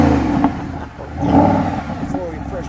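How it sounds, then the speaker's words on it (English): A 2011 Mercedes-Benz SLS AMG Gullwing engine revs up from idle with a deep, throaty swell and falls back. The sound is close and loud, with people talking over it. "Go ahead, Dave, give it a good rev."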